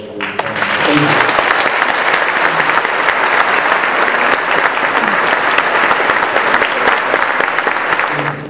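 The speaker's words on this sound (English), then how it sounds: "can we have a great round of applause for Tom?" Loud, close applause from a congregation for speaker Tom Friedman at an evening event with a rabbi, a thick continuous roar of clapping holding steady from start to finish with murmured voices beneath.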